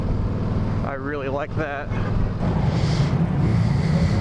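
Riding a Yamaha V-Star 1300 Deluxe motorcycle at a 2017 demo day, with steady engine and wind rumble throughout and someone talking over it.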